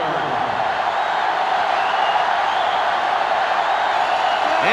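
Stadium crowd in the college football game NCAA Football 2005 during a Florida Gators versus Tennessee Volunteers rivalry matchup, a steady loud roar of cheering that holds constant throughout with no break.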